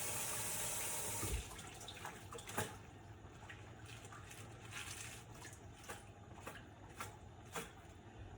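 Running tap water splashes steadily over leafy salad greens being rinsed in a kitchen sink, a continuous close wash with a few sharper splashes and clatters, no talking.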